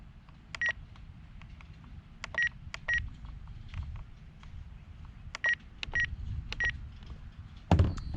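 A timer beeps in short electronic bursts while being set: clusters of two or three quick high chirps separated by pauses, fairly close over a low background rumble, with a louder click at the end.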